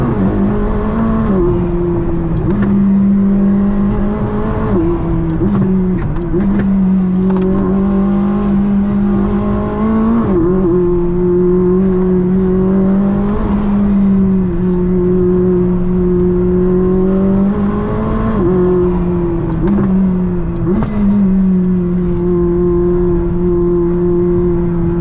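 A Tesla Model S Plaid drives along a mountain road, its electric motor giving a loud, continuous whine that rises and dips in pitch with speed over a steady rush of road and wind noise.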